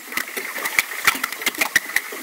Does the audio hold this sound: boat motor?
yes